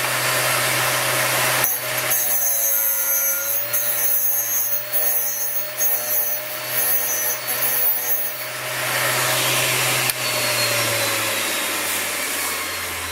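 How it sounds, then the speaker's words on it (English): A GD-13A drill bit sharpener's motor hums steadily while a drill bit grinds against its wheel, a loud close whirring scrape with sharp clicks near the start and later on as the bit is turned, and no talk. "you carry on sharpening until it stops touching the wheel."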